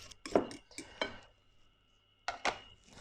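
A fork mashing bananas in a mixing bowl for an egg-free, gluten-free vegan cake, giving a few sharp clinks and scrapes against the bowl in two short bursts with a quiet pause between.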